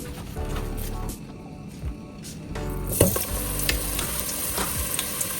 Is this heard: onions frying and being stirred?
yes